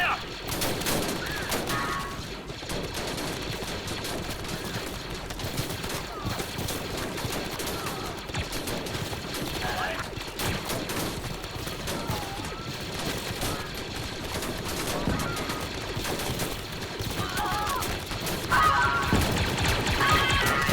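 Blaster fire in a Star Wars: Galaxy at War clone base defense battle, dense continuous volleys of rapid shots and ricochets with crashes and impacts, loud and unbroken throughout, under faint voices.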